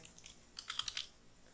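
Brief burst of keystrokes on a computer keyboard while writing Java code for a mouse-event program, a quick run of several soft, close clicks lasting under a second against a quiet room.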